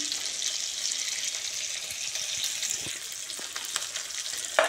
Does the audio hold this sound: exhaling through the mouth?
no